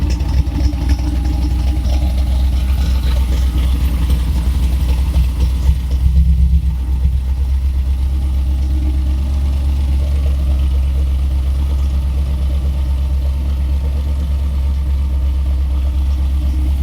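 A 1962 Chevrolet C10 pickup truck engine idles steadily with a deep, low rumble, loud and close, holding an even level throughout with no talking.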